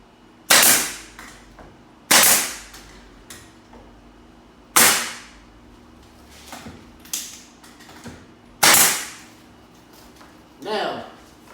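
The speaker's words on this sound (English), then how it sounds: "if you see a little gap between the wall and the trim, just give it a little nail, and that should draw it up" A nail gun fires sharp, loud snaps into interior door trim against a wall, five or six separate shots spaced a second or two apart, each a crisp crack with a short mechanical rattle, with a person talking in between.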